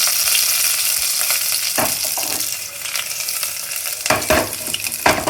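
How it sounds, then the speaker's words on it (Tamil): Garlic and curry leaves fry in hot oil, a close, continuous sizzle broken by scraping stirs and louder bursts of crackling toward the end, with no talking. "வெள்ளைப்பூடை போடணும். வெள்ளைப்பூடு லைட் ப்ரௌன் ஆகணும். இது கூட கருவேப்பிலை போட்டுடலாம்."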